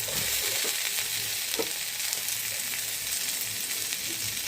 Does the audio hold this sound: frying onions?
yes